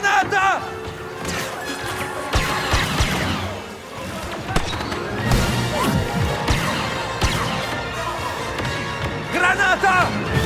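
A grenade explodes amid a Star Wars Battlefront II battle, with repeated crashing blasts and thuds layered in dense combat noise while in-game voices shout over the chaos.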